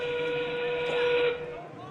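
A whistle at an FTC robotics state championship match signals the endgame period, a steady high tone lasting about a second under continuous announcer commentary and arena noise.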